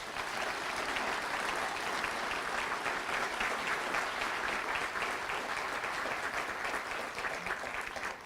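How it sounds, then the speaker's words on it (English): An audience at a military town hall meeting gives a long, steady round of applause, dense and even throughout with no voices breaking through. "Let's give them a round of applause."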